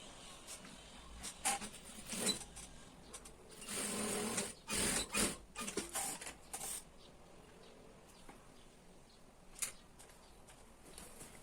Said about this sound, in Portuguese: agora a gente vai fechar o fundo com uma costura reta